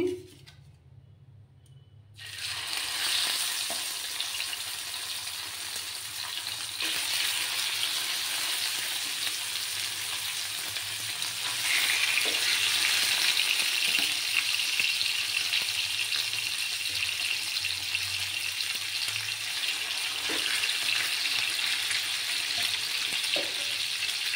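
Pieces of rohu fish hit hot oil in a pan with a sharp burst, then settle into a loud, steady crackling sizzle that holds for over twenty seconds with occasional pops and no talking.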